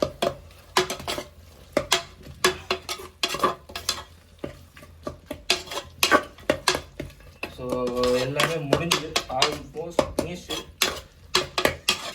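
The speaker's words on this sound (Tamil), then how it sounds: "எல்லாத்தையும் மிக்ஸ் பண்ணு இப்போ" Chicken biryani ingredients being mixed in a pot, with repeated metal spoon scrapes and clanks against the pot in an uneven rhythm and a light sizzle underneath, close up; a brief voice joins midway.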